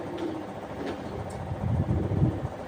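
Soft cooing of racing pigeons sits under a steady low background hum, with a few faint murmuring calls that grow slightly louder toward the end.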